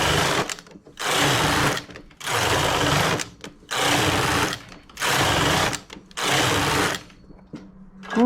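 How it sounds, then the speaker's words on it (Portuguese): A knitting machine makes rib stitch rows using the ribber bed, sounding as five even, loud, rasping carriage passes of about a second each, separated by short pauses, close and without talk. "Vou tecer 10 carreiras."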